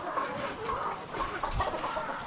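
Chickens cluck nearby in short, irregular bursts, with soft farmyard background noise.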